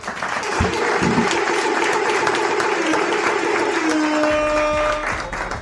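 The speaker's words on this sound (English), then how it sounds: "I want to clap for the audience" Live podcast audience clapping for itself, steady dense applause filling the room throughout, with a brief voice and a few tonal sounds toward the end.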